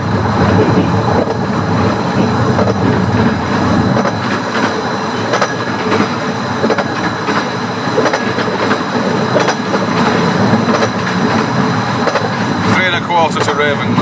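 A narrow gauge train on the Ravenglass and Eskdale Railway runs along rails without check rails, with a continuous loud rolling rumble and clatter of wheels, brief squeals near the end, and a person talking over it.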